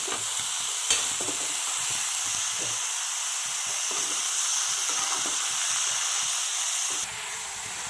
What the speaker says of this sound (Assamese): হালধি দিছোঁ আৰু এইখিনি অলপ লৰাই দিম।